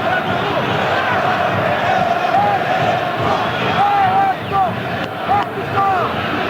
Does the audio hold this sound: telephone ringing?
no